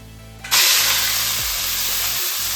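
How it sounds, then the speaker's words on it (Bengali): Whole garam masala with cinnamon and cardamom hits hot oil with a sudden loud hiss that settles into a steady, close sizzle, a few soft clinks of utensils underneath. "একটু গোটা গরম মশলা দিয়ে দিলাম"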